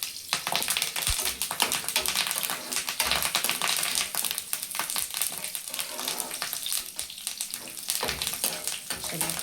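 Garlic and curry leaves frying in hot oil, a dense crackling sizzle with rapid sputtering pops that continues steadily and close throughout.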